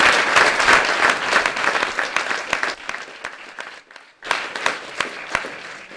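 An audience at a people's assembly breaks into dense, loud applause that thins briefly and then swells again before fading.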